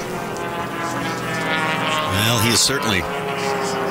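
Formula One class racing airplane at the Reno Air Races, a steady loud engine drone with a rising pitch sweep as it passes, heard under a commentator's voice.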